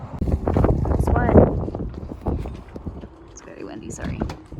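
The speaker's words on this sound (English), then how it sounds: "It's very windy, sorry." Strong wind buffeting the microphone outdoors beside a boat under repair, heavy low rumbling gusts over people talking nearby.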